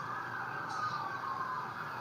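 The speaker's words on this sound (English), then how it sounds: "We can hear the sirens." A distant siren wails faintly over steady background rumble in downtown Los Angeles during a protest curfew, its pitch wavering slightly throughout.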